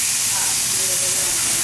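Steak searing in a hot pan with some fat, a steady close hiss of sizzling that fills the short moment with no voices.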